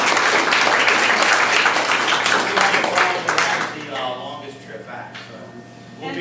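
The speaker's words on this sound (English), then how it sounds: "Let's give Dr. Skipton a round of applause." An audience at a sheep and goat seminar applauds a veterinarian speaker, a full burst of clapping that thins and fades out, with a voice speaking as it dies away.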